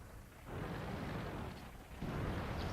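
A tank cannon fires in World of Tanks on the Ensk map, two heavy booming blasts with rumbling low-end tails, the second hitting a little louder, with no talk over them.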